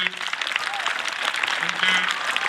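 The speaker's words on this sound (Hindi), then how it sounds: "जोरदार तालियां एक बार सर के लिए" Audience at a school farewell ceremony breaking into sustained, dense applause, steady and fairly close, with a few voices faintly mixed in.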